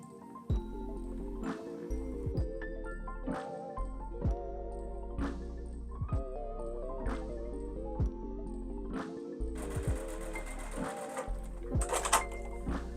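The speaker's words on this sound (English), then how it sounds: "we're going to stitch on either side of that line again, just like before, 1/4 inch away" A sewing machine stitching quilt block pieces for a Louisiana block, with quiet, repeated bursts of rapid mechanical stitching separated by short pauses, close by and fairly faint.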